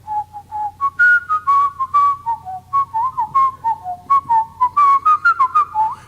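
A bright tin whistle carries a lilting, ornamented melody in orchestrated video game music, its notes clear and upfront over a soft low accompaniment.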